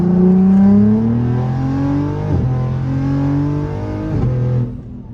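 A single-turbo BMW M240 accelerates hard through a full pull, loud and close, its engine note climbing in pitch through several gears with brief dips at each shift before easing off at the end.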